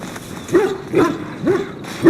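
Hounds in the Dragon Age: Origins game, kept at the Ostagar war camp, let out four distinct barks at roughly half-second intervals. The barks are moderately close and stand out over a steady low ambient hum.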